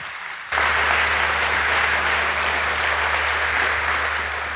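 An audience at a conference talk applauds to welcome a speaker: the clapping starts abruptly after a brief moment of quieter sound, then holds as a loud, dense, sustained wash.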